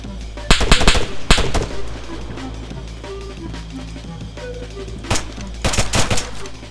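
Bursts of automatic gunfire in the video game Wasteland crack out in two heavy clusters with scattered single shots between, under a low steady background rumble.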